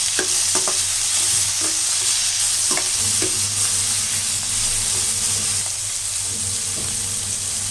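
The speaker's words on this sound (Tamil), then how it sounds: "பொடியாக அரிஞ்சு வச்ச தக்காளி, இதே நல்லா வதக்கிடலாம்." Finely chopped tomatoes sauté in a pan for drumstick thokku, a continuous close sizzle and hiss broken by a few clacks of a spatula stirring against the pan, with no talking.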